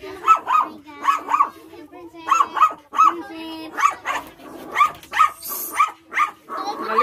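Dogs bark in repeated angry bursts at other dogs during a home gathering, sharp yaps and barks coming near and loud in an irregular rhythm, with people talking underneath.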